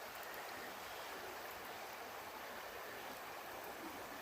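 The River Dargle in Wicklow rushes downstream of a waterfall, a steady, even wash of flowing water that stays soft and continuous from start to finish, with no voices.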